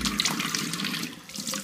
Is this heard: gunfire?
no